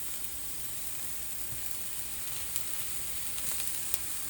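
Onions and butter sizzle steadily in a hot, heavy cast iron pan, a constant close frying hiss with a few small pops and no voices.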